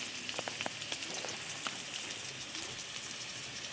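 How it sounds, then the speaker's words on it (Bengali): Ginger-garlic paste with spices sizzling in a pan, a soft continuous crackle with light spatters and occasional stirring clicks, no voices. "আদা রসুন বাটাটা দিয়ে আমি আবারও মশলাটা একটু নেড়ে চেড়ে কষে নেব"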